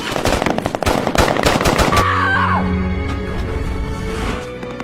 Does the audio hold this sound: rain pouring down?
no